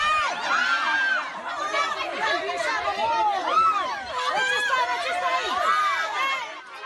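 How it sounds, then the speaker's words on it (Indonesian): Residents in Dompu, West Nusa Tenggara, scream and shout in panic at an electrocuted electricity company worker: a dense, continuous crowd of overlapping frantic voices, loud and close throughout. "Warga yang melihat peristiwa ini spontan panik dan berteriak histeris."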